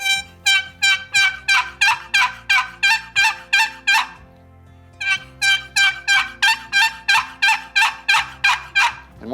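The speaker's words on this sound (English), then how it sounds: "to make that into a yelp, you just speed up the pace a little bit, and it sounds like this" A wooden box turkey call worked in quick paced yelps, two long runs of sharp, raspy rhythmic notes close up with a short pause between them, no voices.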